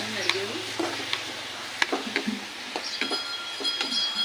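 Onions frying in a pan for a mushroom dish, a steady close sizzle broken by repeated sharp scrapes and clinks of a spoon stirring against the pan, with no talk.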